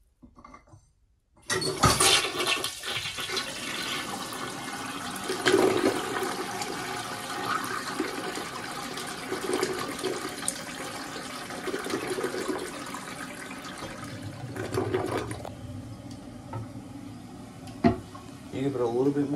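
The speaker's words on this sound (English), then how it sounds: "I guess I could give it one last flush for you guys." Toilet in a grandmother's house restroom flushing with a loud rushing swirl of water, followed by a steady hiss and trickle as the tank refills, close and continuous with occasional small knocks.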